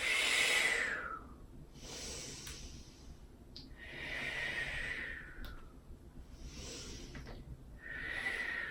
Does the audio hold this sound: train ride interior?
no